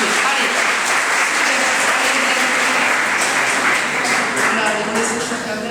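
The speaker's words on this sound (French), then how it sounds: "Allez, on applaudit la dame quand même pour la motiver." A conference audience applauding a woman, dense sustained clapping from many hands in a large hall, loud and steady throughout.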